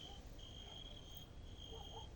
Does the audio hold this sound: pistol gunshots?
no